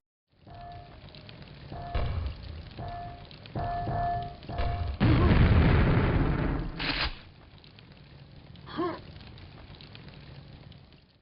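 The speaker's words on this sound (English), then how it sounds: "Here he uses a double Ogre Grenade jump without looking" Grenade blasts in the video game Quake burst out as a dense, rumbling roar lasting a couple of seconds, set among short game tones and a later smaller thump.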